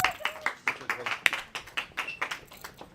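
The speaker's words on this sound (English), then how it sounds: "All right, give Josh Earl a round of applause." A small audience claps in a room, the sharp, uneven claps close together and fairly light, fading in and out over a few seconds.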